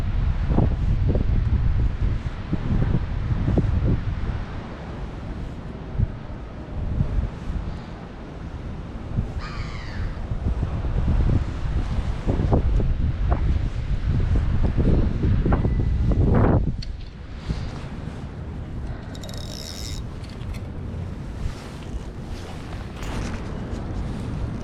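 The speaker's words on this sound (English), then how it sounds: "Can't really do it against the wind" Wind buffets the microphone during street fishing in Amsterdam, a steady loud low rumble and roar throughout, with occasional crow caws and rustling in the background.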